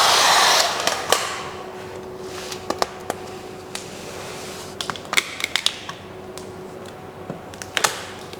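Heat gun warming vinyl wrap at the corners of a front door: a steady blowing hiss, strongest at the start, runs throughout, with a scatter of sharp ticks and taps as the film is pressed into place.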